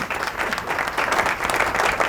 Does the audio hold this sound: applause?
yes